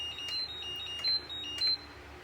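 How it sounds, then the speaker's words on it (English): A LiPo battery charger, charging 3S and 6S packs, gives repeated short high electronic beeps in an uneven pattern, with two brief louder tones standing out. "Sorry for the beeping, guys."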